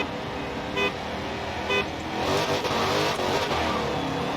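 A widebody Dodge Challenger Hellcat Redeye in Forza Horizon 4 roars as it accelerates, its engine note briefly dipping at two quick gear shifts before surging louder and rougher, with no speech.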